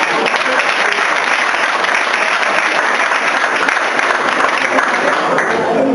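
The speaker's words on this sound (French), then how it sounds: "On applaudit." An audience at a school event in Canada applauds, dense sustained clapping throughout, loud and close, with no clear voices over it.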